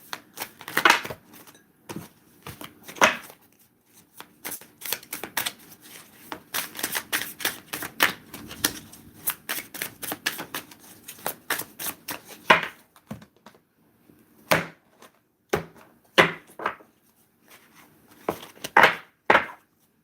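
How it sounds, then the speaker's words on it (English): A deck of playing cards is shuffled by hand in repeated crisp riffling bursts with short pauses between them, close and fairly quiet, with no talking. "I'm going to shuffle the cards"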